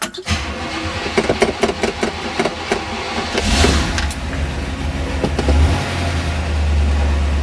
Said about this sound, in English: I'm going to start the car, a couple pumps on the accelerator.